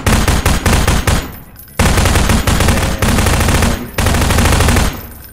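Loud rapid gunfire in the Garry's Mod video game, sustained machine-gun bursts separated by two short gaps, up close and without talk over it.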